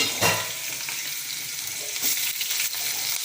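Onions sautéing in a hot pan, a continuous bright sizzle with a few louder crackling bursts as they are stirred, close and alone.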